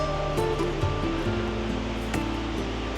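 Mountain waterfall on an alpine hike near Lauterbrunnen, a constant roaring rush of falling water, broadband and steady with no voices over it.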